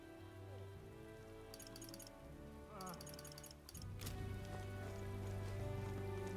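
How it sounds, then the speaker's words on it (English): Steady rain falling in a town square in the video game Metaphor: Refantazio, a continuous soft hiss that grows a little louder midway, layered under game music and ticking interface sounds. "check out the rain"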